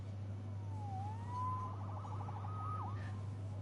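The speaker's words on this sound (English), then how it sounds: "Saved by the siren." A police siren in the Spider-Man Remastered video game wails once at a distance, rising and falling in a brief, faint sweep over a steady low hum.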